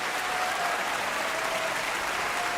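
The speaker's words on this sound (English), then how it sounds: "Let me put the hand claps louder." Dense hand-clap applause, a steady uninterrupted wash of many claps at even loudness from start to end, close and full, with no voices over it.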